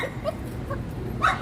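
A small dog lets out a few high whimpers and a short yip, fairly quiet against a murmuring background.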